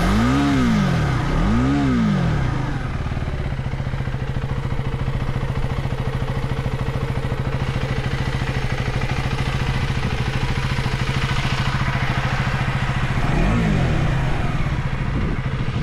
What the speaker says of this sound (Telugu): ఇంజన్ సౌండ్ చూడండి ఫ్రెండ్స్, అసలు ఎంత పవర్ఫుల్ ఇంజన్. అసలు సౌండ్ మాత్రం భలే వస్తుంది. 400 cc ఇంజన్.